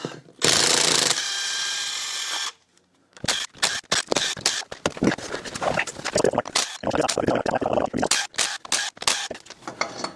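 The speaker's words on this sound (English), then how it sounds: "we're gonna first remove the lug nuts" A power tool, likely an impact wrench, removes lug nuts from a car wheel during a hub assembly and wheel bearing repair. It opens with a loud, sustained burst, then runs on as dense, rapid rattling and clacking with voices now and then.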